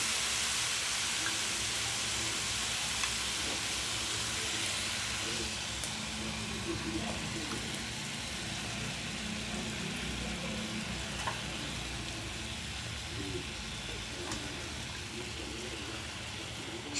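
Soaked tamarind pulp frying in oil in a pan makes a steady, close, even sizzling hiss that continues throughout.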